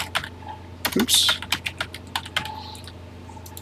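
Keys clack on a TI-99/4A home computer keyboard as a BASIC program is typed in, a close, irregular run of sharp taps with pauses; one brief spoken word interrupts.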